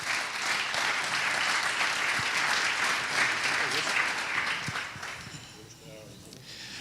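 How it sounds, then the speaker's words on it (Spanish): Audience applause at a diploma ceremony rises as a dense, steady clapping for about five seconds, then fades to a thinner patter as the room settles. "Un aplauso para él, por favor."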